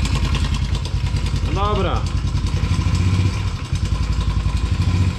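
A Honda TRX 90 quad, its engine rebuilt after flooding, runs steadily close up while it warms. A constant rattly putter continues throughout, with someone speaking briefly over it.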